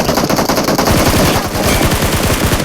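Automatic gunfire in the mobile game PUBG Mobile rattles out in a loud, continuous rapid burst of closely spaced shots, close and dominant throughout.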